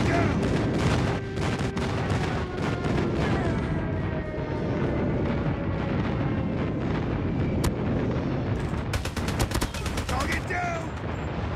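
Airstrike explosions in Call of Duty Mobile on the Hovec Sawmill map, a dense continuous barrage of booms and gunfire lasting throughout, with a cluster of sharp cracks near the end and occasional voice callouts mixed in.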